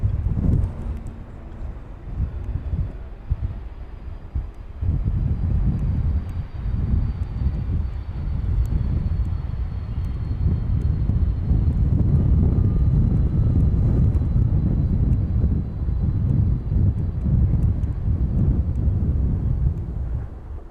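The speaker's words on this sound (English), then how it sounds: "There you go, those reverse thrusters." Airliner using reverse thrust after landing at East Midlands Airport: a loud, broad, sustained jet roar that swells after a few seconds and holds steady, close by, with wind buffeting the microphone.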